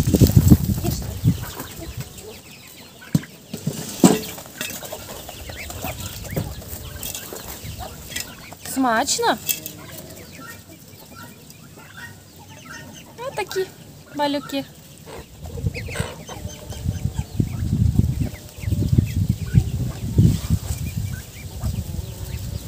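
Chickens cluck and cheep around a rural Ukrainian backyard, alongside ducklings, in short scattered bursts near and far, while someone talks over them.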